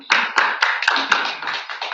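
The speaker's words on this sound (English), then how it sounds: "A round of applause for them." Audience applause for a panel at a young professionals bootcamp, a short burst of fairly close, sharp hand claps that rises quickly and tapers off over a couple of seconds.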